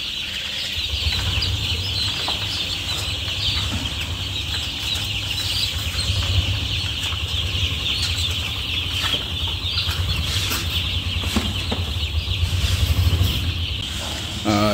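One-day-old chicks on a poultry farm chirping in a dense, continuous chorus close by, with flapping and rustling throughout.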